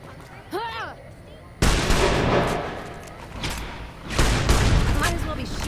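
Heavy gunfire in Fallout New Vegas, a loud, sudden burst of shots that rolls into echoing reports, then a second volley a few seconds later, after a brief warbling tone.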